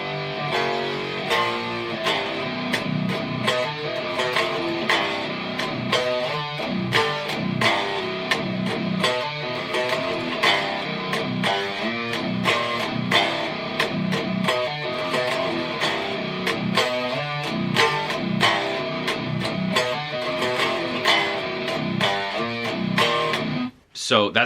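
Distorted electric guitar plays a song slowly, with open chugs on the low two strings, in a steady, loud, unbroken riff that stops abruptly right at the end.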